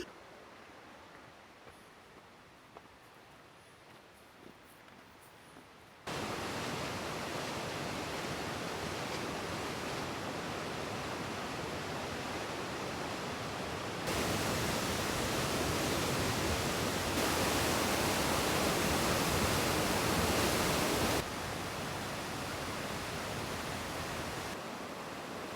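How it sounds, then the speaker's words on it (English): Nairn Falls, a waterfall near Pemberton, roars as a continuous broadband rush that starts quieter and swells louder partway through, with no talking. "Narin Falls, which is a beautiful waterfall"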